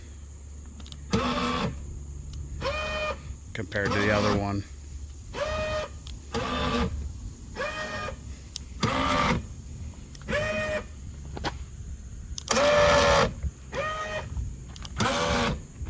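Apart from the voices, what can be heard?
electric camper jack leg motor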